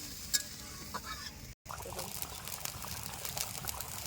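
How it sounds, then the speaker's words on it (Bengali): Water poured into a paneer and cauliflower curry in a cooking pot, a steady close pour and trickle lasting a few seconds, alone with no talk. "পরিমাণ মতো জল দিয়ে দেবেন।"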